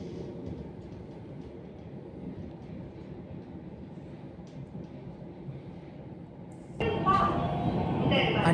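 A metro train runs through Kharghar, recorded from inside the carriage: a low, steady rumble and rattle that suddenly grows louder and brighter near the end.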